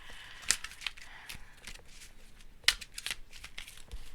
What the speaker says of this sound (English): So I'm going to do some shuffling here real quick